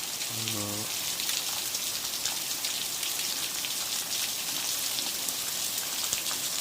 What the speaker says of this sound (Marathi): तुम्ही बघू शकता आता हे पावसाच्या सरी जाम पाऊस आहे